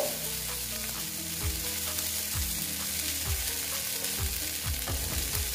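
Okra and egg frying together in a pan, a continuous close sizzle with rhythmic stirring strokes of a spatula repeating through, no talking.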